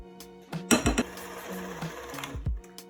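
Whisk working a thick peanut butter mixture in a bowl for cookie dough, a few sharp clinks and scrapes against the bowl, close and uneven, with no one talking.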